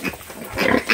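Piglets squeal and grunt in short, loud bursts close by after being separated from the sow, with the calls rising and overlapping toward the end.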